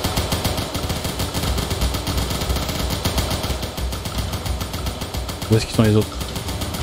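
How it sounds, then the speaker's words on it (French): Rapid automatic gunfire in the video game War of Gold 2 rattles continuously in tight bursts, with someone briefly speaking French over it near the end. "J'entends que ça tire mais je sais pas d'où ça tire."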